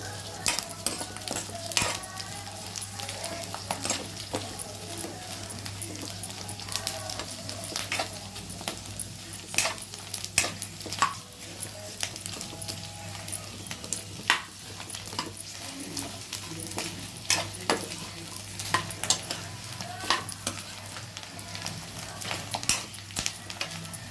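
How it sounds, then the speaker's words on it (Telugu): An ingredient frying in a pan until it puffs up and turns white crackles and sizzles continuously over a low steady hum, with frequent quick clicks and scrapes of a utensil stirring throughout. "పెద్దగా అయ్యే వరకు, వైట్ కలర్ అయ్యే వరకు ఫ్రై చేసుకోవాలి."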